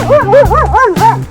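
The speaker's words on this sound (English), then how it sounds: "Puppy dog." A puppy barks and yips several times in quick succession, loud and close, with a short pause before the final bark.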